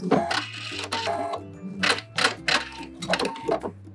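A sewing machine back stitches at the tip of a dart in fabric for high-waisted shorts, running in short close mechanical bursts with stops and restarts, a rhythmic clattering hum.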